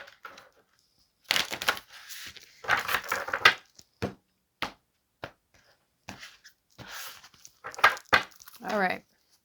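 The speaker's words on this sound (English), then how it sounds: "These ones are kind of hard to shuffle because they're so big." Bursts of riffling and flapping as a deck of large, oversized cards is shuffled in several separate goes, with short pauses between them.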